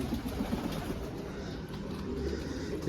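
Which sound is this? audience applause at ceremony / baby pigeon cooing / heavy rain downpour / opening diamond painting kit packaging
baby pigeon cooing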